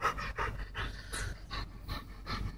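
A puppy pants in quick, steady, rhythmic breaths close to the microphone, with no talking over it.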